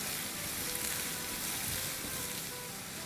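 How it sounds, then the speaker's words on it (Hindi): Onions sautéing lightly in hot oil for a Hindi-style aloo dish, a steady, dense crackling sizzle that runs unbroken and fairly loud throughout, with no talk over it. "अनियन को ब्राउन वगैरह नहीं करना है, बस हल्का सा 30-40 सेकेंड सॉटे करना है"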